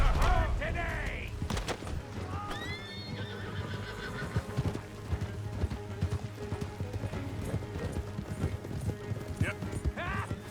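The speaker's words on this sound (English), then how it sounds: "Keep riding, Morgan" In Red Dead Redemption 2, horse hooves clip-clop rapidly at a gallop alongside whinnying and neighing, with scattered shouts and background music layered over the running.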